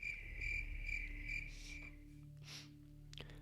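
Crickets chirp in steady, rapid pulses, a close, continuous insect trill over a low background hum at night.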